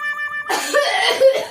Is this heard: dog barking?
no